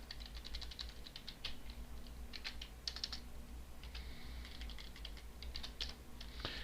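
Quiet clicking of fingers typing on a computer keyboard, with irregular bursts of keystrokes and short pauses, faint and close against a low steady hum.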